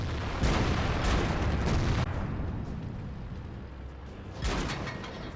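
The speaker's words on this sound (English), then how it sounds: "what happens when the biggest tank in World of Tanks with the largest amount of ammo gets ammo racked" A Maus super-heavy tank's ammo rack detonates in World of Tanks, a deep, sustained roaring explosion with a rumbling tail, then a second burst near the end, loud and close, no talking.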